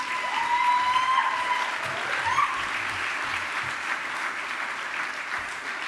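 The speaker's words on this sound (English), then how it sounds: "Let's give her a round of applause as she comes up stage" Steady audience applause greets a woman walking up to the stage at an environmental movement keynote, a dense sustained wash of clapping from a large crowd with a faint whistle-like tone early on.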